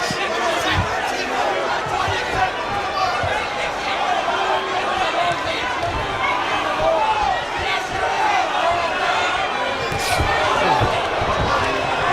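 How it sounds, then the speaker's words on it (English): A boxing crowd cheers and chants to rally fighter Pitbull Cruz during his bout with Lamont Roach Jr., a dense, continuous arena roar with a commentator talking over it. "Crowd trying to rally Pitbull."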